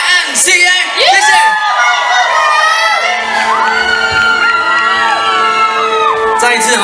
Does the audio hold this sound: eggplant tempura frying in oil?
no